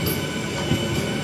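A MEMU passenger train at Nidadavolu junction station gives off a steady low rumble and rolling rail noise through the whole moment, with a faint high tone near the end.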